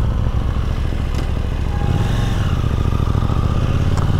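A 2022 KTM 890 Duke GP idles in neutral with a steady, loud, close parallel-twin rumble and slight mechanical clatter, running alone without revs or talk.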